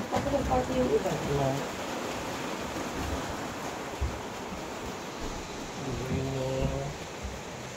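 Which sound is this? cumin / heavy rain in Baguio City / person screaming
heavy rain in Baguio City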